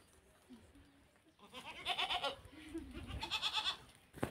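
Several farm goats bleat repeatedly at close range, with wavering, overlapping calls coming in two bursts and softer murmurs between them.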